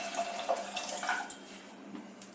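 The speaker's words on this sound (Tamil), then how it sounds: "தண்ணி ஊற்றிடுறேன்." Water poured into a pan of sautéed manathakkali (black nightshade) greens for soup, a steady splashing rush lasting a couple of seconds, close and fairly quiet, with no talking.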